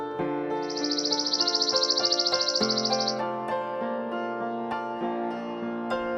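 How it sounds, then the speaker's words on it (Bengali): A sparrow gives a rapid, continuous chirping trill for a few seconds, bright and fairly close, layered over light background music that continues after the bird falls silent. "চড়ুই।"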